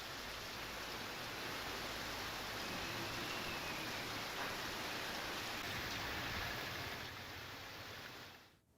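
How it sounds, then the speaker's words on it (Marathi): Steady unseasonal rain falls in Buldhana, Maharashtra, a dense, even hiss of drops on surfaces that continues throughout before easing off slightly at the end. "बुलढाणा जिल्ह्यामध्ये सुद्धा सलग 3ऱ्या दिवशी विजांच्या कडकडाटासह अवकाळी पावसानं हजेरी लावली आहे"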